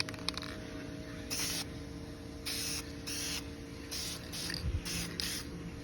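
Aerosol clear coat sprayed onto a restored car headlight in short hissing bursts, several light passes separated by brief pauses, close and fairly quiet.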